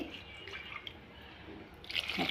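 A brief splash of water poured into a pot of thick paneer butter masala gravy, with soft wet dripping and a louder pour near the end.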